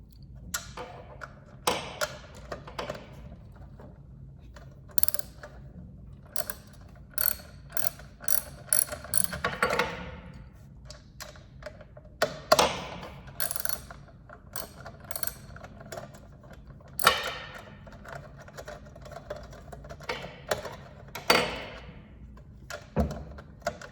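Engine bolts are snugged tight with a ratchet during engine assembly in a workshop lab, giving close, intermittent bursts of sharp clicking separated by short pauses.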